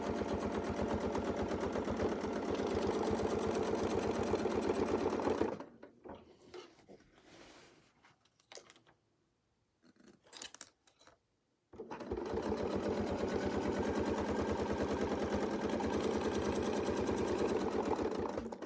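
A sewing machine double stitches bold circles onto a quilt with heavy thread, running steadily and loudly, pausing midway for several seconds of quiet handling and faint clicks before the stitching resumes at full pace.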